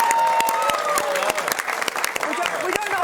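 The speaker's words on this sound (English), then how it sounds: "let's applaud you for that" Studio audience applause for an economist guest on a TV show about fixed-rate mortgages, a loud dense clatter of clapping with voices talking over it throughout.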